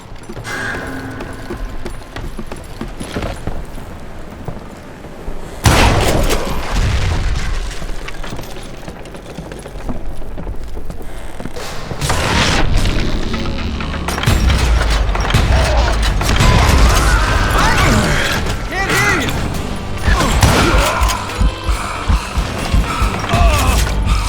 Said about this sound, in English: I noticed a footbridge tied up on high, so I shot the rope